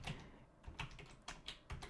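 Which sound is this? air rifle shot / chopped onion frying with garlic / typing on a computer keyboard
typing on a computer keyboard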